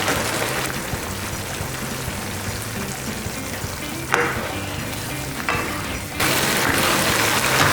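Mapo eggplant dusted with potato starch sizzles over high heat, a dense, continuous frying hiss with occasional stirring scrapes and surges, close and loud throughout.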